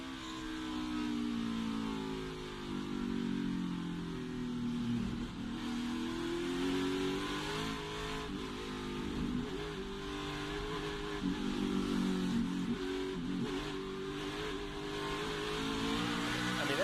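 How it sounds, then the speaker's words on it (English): Race car engine in practice for the 2023 Drive for the Cure 250, throttle worked hard through an infield section, revs rising and falling in a steady loud drone with constant modulation, no voices. "When he leaves his next right, though, listen to how much he has to work the throttle."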